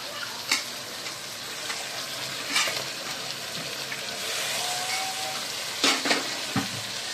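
Tomatoes and spices for a soya ball kuruma sautéing in a pan, a steady close sizzle broken by several sharp scraping stirs of a spoon against the metal.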